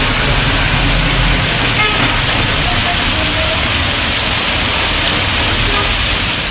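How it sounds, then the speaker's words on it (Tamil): Heavy rain pours down in Sirkazhi, Mayiladuthurai district, as a loud, dense, unbroken hiss with a faint horn toot and traffic rumble mixed in. "சீர்காழி சுற்றுவட்டார பகுதிகளில் கனமழை கொட்டி தீர்த்ததால்"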